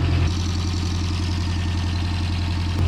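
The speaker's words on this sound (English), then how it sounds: "She's idled down pretty good." A 1992 Toyota pickup engine idles steadily and close by, a low, even rumble with a fine rhythmic pulse running unbroken throughout.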